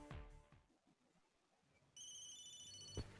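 A phone ringtone in the Tomb Raider action adventure DVD game: a bright electronic trilling tone starts abruptly after a quiet stretch and sustains, preceded by a short burst of game sound.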